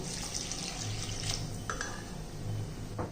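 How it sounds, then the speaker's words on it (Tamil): Water is poured into a cooking pan while making a quinoa dish, a steady splashing pour like a running tap, fairly close, with a few drips toward the end. "இப்போ இது வேகிறதுக்கு நம்ம கொஞ்சம் தண்ணி ஊற்றிக்கிடுவோம்"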